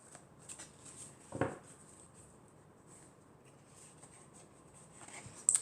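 Tarot cards are shuffled and drawn in a quiet room, giving soft, faint rustles and brief card slaps, with a couple of sharper flicks standing out.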